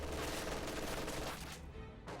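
MG42 machine guns fire in a World War II strategy game, a dense, rapid stream of gunfire that fills the scene loudly before briefly dropping away and returning.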